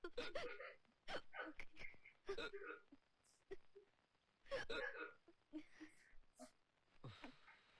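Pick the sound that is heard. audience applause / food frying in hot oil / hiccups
hiccups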